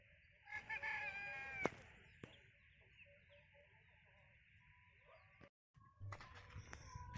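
Free-range farm chickens foraging outdoors cluck steadily while a rooster lets out a loud, drawn-out crow early on. Softer clucks and rustling continue afterward, with a brief gap of silence near the end.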